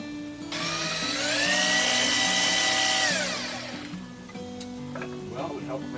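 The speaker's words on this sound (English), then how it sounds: "it would help if I had a sharp drill bit" A power drill with a dull bit bores into a metal base plate for a cell tower build, a sustained grinding whine that rises in loudness, holds, then winds down, with someone talking over it.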